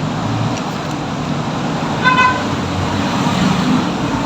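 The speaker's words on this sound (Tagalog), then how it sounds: "Maingay lang ang mga dumadaan na mga sasakyan" Steady road traffic noise with vehicles passing nearby, a short horn-like toot rising briefly in the middle.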